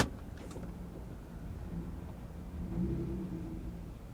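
A truck idling alongside with loud ticking lifters gives a steady low engine rumble, fairly faint and muffled, swelling slightly toward the end.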